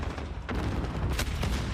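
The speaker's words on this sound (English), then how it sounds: "A lot of gunfire going down" Dense gunfire rattles through a Call of Duty esports match at the Atlanta FaZe Home Series, with continuous loud shots and bursts overlapping from start to finish and no clear pauses.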